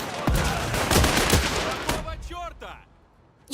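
Machine gun fire in the strategy game Last Train Home, set among the Czechoslovak Legion, bursts of rapid shots over the first two seconds, then fading while a voice speaks.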